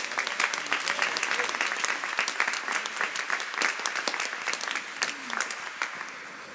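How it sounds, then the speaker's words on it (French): Sustained applause for a Radio Maria team member at a staff introduction, a dense, steady patter of many hands clapping at moderate volume from start to finish. "on peut l'applaudir"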